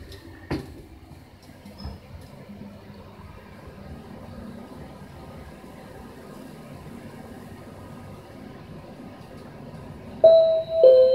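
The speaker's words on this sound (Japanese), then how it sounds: "扉が閉まります。" Mitsubishi elevator at Mitsuzawa-shimocho station, ground-level side, with doors closing quietly amid low hum and a couple of soft knocks, then a loud two-tone chime sounding near the end.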